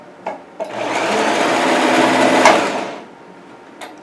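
Sewing machine stitching a cosplay costume, a steady mechanical whir lasting about two and a half seconds between short clicks, close and fairly loud.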